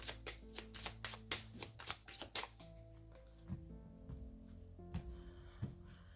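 Tarot cards riffled and laid out by hand for a cross-shaped reading, a run of crisp quick snaps and flutters up close, then softer scattered taps of cards placed down, with no talk over them.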